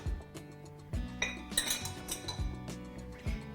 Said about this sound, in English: go ahead and mix that up a little bit